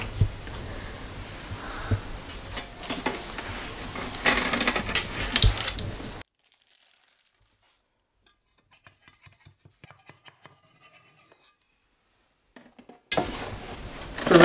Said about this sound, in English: So I'm going to take them out of the pan and put them on my cooling rack.